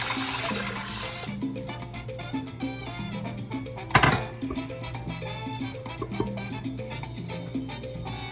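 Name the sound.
water poured into Instant Pot with rinsed rice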